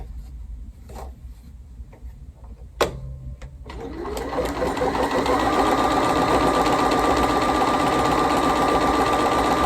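A Bernina Series 3 sewing machine stitches a pattern. A few quiet clicks and a sharp knock come first, then the motor starts up into a loud, steady, fast whirring hum that carries on to the end.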